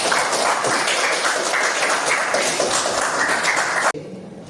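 Applause from a school audience after a prayer, dense and steady for about four seconds before cutting off abruptly into quieter room tone.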